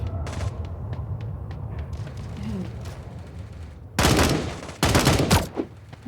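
Rapid automatic gunfire in the shooter game Sausage Man, with ambient game noise and faint chatter first, then two loud sustained bursts of fire near the end.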